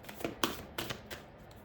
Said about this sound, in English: it's getting so hard to shuffle